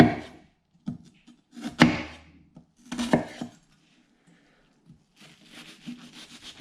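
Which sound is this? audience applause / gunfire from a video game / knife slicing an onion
knife slicing an onion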